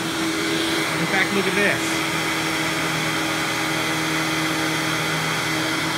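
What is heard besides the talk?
Hoover Windtunnel Supreme U5458-900 upright vacuum cleaner running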